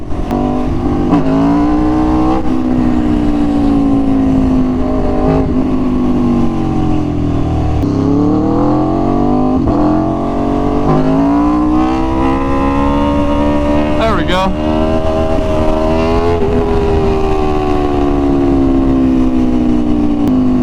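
An Aprilia RSV4 Factory superbike engine revs hard and continuously through power wheelies, the loud note climbing and dropping with the throttle and close to the listener, wind roar running throughout.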